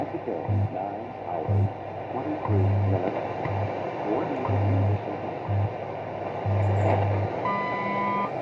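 Repeated short beeps from a shortwave radio band scan on a CCRadioSW receiver, a steady rhythm of tones over constant static and hiss, with a higher tone near the end.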